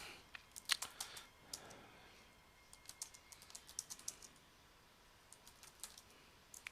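Quiet, close keystrokes tap on a computer keyboard in irregular bursts of clicks with brief pauses, with no talking over them.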